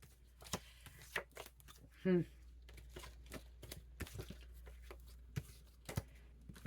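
Playing cards are shuffled in short, irregular riffles and snaps close by, with a brief murmured voice in the middle.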